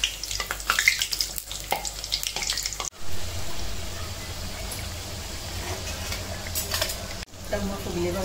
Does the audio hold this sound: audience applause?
no